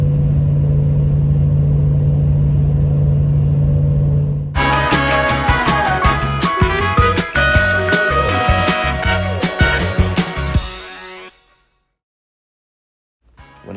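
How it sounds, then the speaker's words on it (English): Nitto Trail Grappler M/T 33-inch mud-terrain tires roaring on pavement at highway speed, a loud steady drone with engine rumble, then a busy stretch of music-like tonal sound before it cuts to near silence. "This is my first highway speed drive with these, and as you can hear, there's significantly more road noise"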